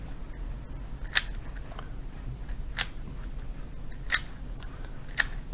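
An X-Man XT3 V1 Pioneer Maglev speed cube is turned and corner cut, giving a few sharp, isolated plastic clicks spaced about a second apart over quiet room noise.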